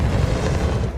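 A Confringo spell blast in Hogwarts Legacy: a loud, dense, booming burst that fills the whole moment with rumbling low-end energy.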